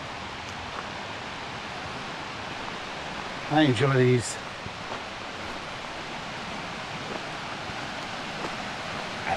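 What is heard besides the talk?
babbling brook, small river flowing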